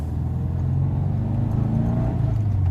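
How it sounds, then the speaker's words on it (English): Subaru car engine running steadily at close range, a deep low rumble with a faint whirring layer and slight surges as it holds a constant note with no one talking. "I love the way the engine sounds."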